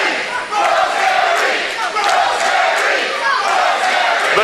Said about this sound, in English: The crowd getting behind Rosemary here tonight.